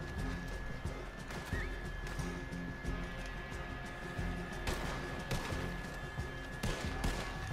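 Horses in the video game Red Dead Online whinny and neigh several times among hoof clip-clops and scattered thuds, moderately close, over a steady low background drone.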